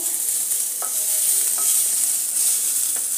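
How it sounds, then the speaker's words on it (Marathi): Chopped onion sizzles steadily in a hot pan for restaurant-style paneer, a constant bright hiss with a few faint utensil scrapes and taps, close and alone without talk. "अशा प्रकारे मी कांदा घालून घेतला आहे।"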